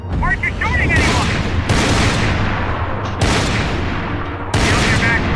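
Dense, loud gunfire in Max Payne 3 runs throughout a chaotic firefight, with rapid overlapping shots and booms, while people shout over it.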